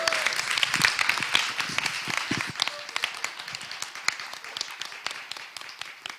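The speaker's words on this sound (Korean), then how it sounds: "열렬한 박수 소리 들으니까" Enthusiastic applause fills a hall at the 2021 POSCO TJ Park Prize service award lecture, a dense, steady patter of many hands clapping for several seconds, moderately loud throughout.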